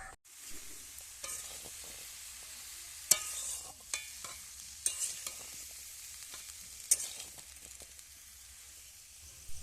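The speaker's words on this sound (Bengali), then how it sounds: "এই মশলার মধ্যে আমি দিয়ে দেবো সব রকম যে কেটে রাখা আনাজগুলো" Chopped cauliflower stalks and mixed vegetables frying in a cooked-down spice paste with separated oil, with a steady soft sizzle and repeated clacks of a spatula stirring against the pan.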